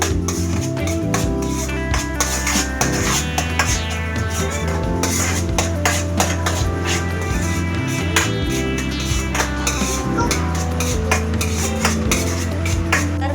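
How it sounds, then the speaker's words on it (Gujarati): A metal spoon or spatula stirring pav bhaji masala in a pan over a medium flame, loud repeated scraping and clanking against the pan in a busy, continuous rhythm, close by and without talk. "બધું જ બરાબર હલાવી લઈશું."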